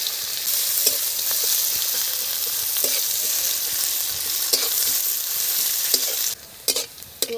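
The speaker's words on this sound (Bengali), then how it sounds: "পেঁয়াজ ভাজা হয়ে গেছে" Onions frying in a pan of hot oil after a cumin tempering, a continuous close sizzle with scattered light ticks, quietening sharply near the end.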